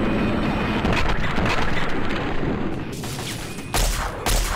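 Loud, dense gunfire rattles almost nonstop in Fallout 3 as headshots are fired, a close barrage of rapid shots that thins briefly near the end before a final burst.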